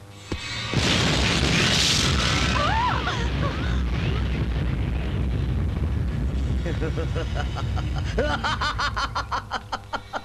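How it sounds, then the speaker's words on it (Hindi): A bomb explodes in a South Indian action film scene, a loud boom that rumbles and sustains for several seconds, overlaid with film sound effects and a snickering, chuckling voice. "इस तरह बम निकालता है ऐसे फेंकता है"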